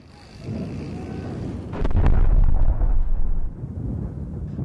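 A heavy, booming explosion bursts out over gusting wind noise during a Free Syrian Army operation in Syria, followed by a long rumbling roar that slowly fades.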